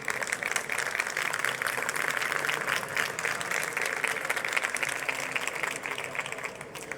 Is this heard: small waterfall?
no